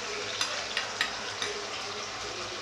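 Meat fries in a pan in a home kitchen, a steady moderate sizzle broken by a few soft scraping knocks as it is stirred.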